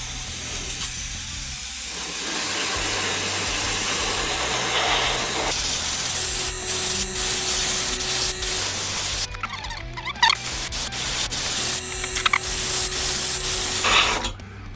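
An airbrush or spray gun hisses as it sprays thick silver candy base paint onto a Tamiya model, giving a steady spray sound with intermittent bursts, rasping pauses and faint squeaks over a background hum.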